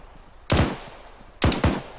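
Machine gun covering fire in the Arma 3 military shooter during infantry squad training, two separate loud bursts of a few rapid rounds each, close by, with quiet ambience between and no talk.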